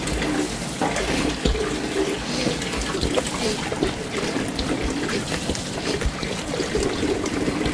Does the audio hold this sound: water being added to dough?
yes